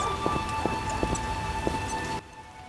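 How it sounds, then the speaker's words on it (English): A dense, steady downpour hisses throughout in The Witcher game, with a few soft knocks mixed in before the rain cuts off abruptly near the end. "What a downpour."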